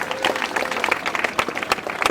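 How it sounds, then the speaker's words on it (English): A crowd claps for an IPAM student union president on a school tour, a brief burst of dense, close applause with no talking. "Clap for this person, please."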